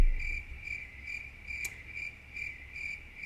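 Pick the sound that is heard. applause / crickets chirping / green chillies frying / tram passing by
crickets chirping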